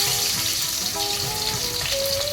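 Garlic frying in hot oil gives a steady, close hiss of sizzling with a few faint tonal notes running through it, and nobody speaks.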